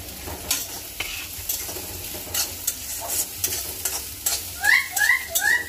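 Green chilies go into a rice dish frying in a pan, with a steady sizzle and repeated scraping stirs up close; a few short high chirps sound near the end.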